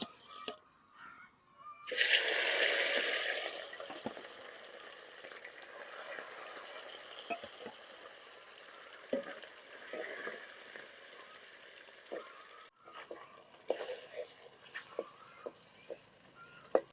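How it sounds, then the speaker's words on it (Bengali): Small mola fish sizzle and spit in hot oil in a pan, a loud burst of frying early on that settles into a quieter steady crackle, with occasional stirring clinks and taps. "বাকি মাছগুলা ভাজা নিব।"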